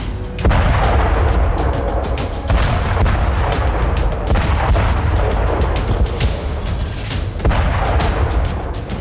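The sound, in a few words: artillery fire and explosions in Ukraine war footage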